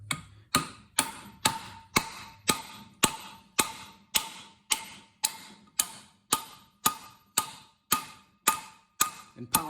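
Socket struck repeatedly to pound a part into a Triumph TR6 engine during cylinder head installation: about twenty sharp metallic hammer blows at a steady, even rhythm, each ringing briefly, close and loud with no talk.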